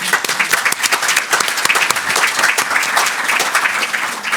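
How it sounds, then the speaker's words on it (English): Conference audience at a EULAR panel debate in Brussels gives the panellists a warm round of applause, dense sustained clapping from a large room that stays loud and even throughout. "we will give you a warm round of applause"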